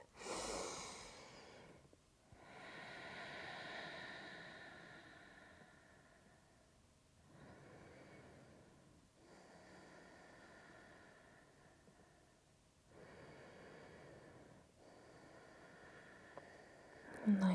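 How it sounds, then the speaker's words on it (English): Slow, deep breaths during a gentle yoga flow, each long airy inhale and exhale drawn out over several seconds and repeated in a calm, even rhythm, soft and close with quiet pauses between. "and breathe."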